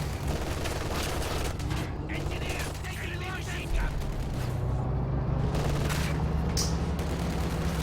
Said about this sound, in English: these common engineers are about to go down here just to machine gun fire